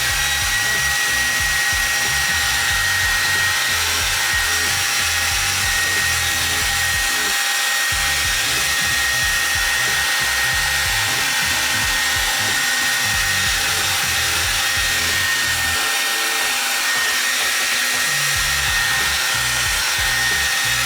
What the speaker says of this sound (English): we're gonna use the blow dryer and just blast it up